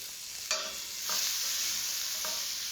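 Sliced onions frying in butter with a pinch of salt in a pan: a steady, close sizzle, with a few light stirring scrapes against the pan and no talking.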